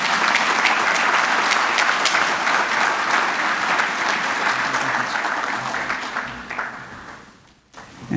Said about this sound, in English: Everybody give a round of applause for Sydney